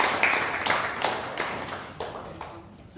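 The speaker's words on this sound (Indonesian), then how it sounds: "tapi beri tepuk tangan buat yang ada." A church congregation claps hands together, a moderate, diffuse burst of many hands that gradually fades over a few seconds in a reverberant room.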